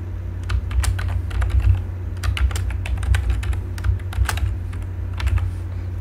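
Steady typing on a computer keyboard while an application name is entered for a new Android Studio project, with clustered key clicks over a constant low hum.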